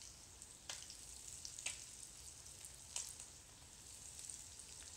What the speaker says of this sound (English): So now I will pan fry these little salmon pieces that were dipped in the panko.